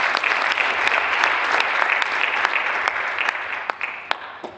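A crowd at a university farewell ceremony claps steadily in sustained applause, dense and fairly loud, slowly tapering off toward the end.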